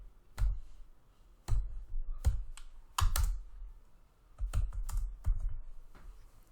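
Python code typed on a computer keyboard: close, crisp key clicks in short irregular bursts separated by brief pauses, with no voice.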